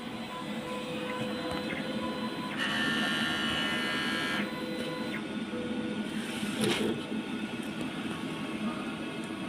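A DTF printer runs a nozzle check with a continuous mechanical whir. Brief higher-pitched bursts from the moving print head rise and fall over the steady hum.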